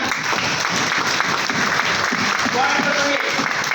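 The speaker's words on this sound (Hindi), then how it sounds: "आपके अपने आप के जोरदार तालियां" A large seminar audience gives loud, sustained applause, a thick unbroken roar of many hands clapping at once, steady from start to finish.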